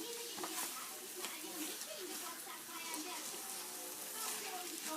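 Grated pumpkin halwa cooking in butter in a pan on a lit stove gives a soft, continuous crackling sizzle, faint and steady throughout the recording.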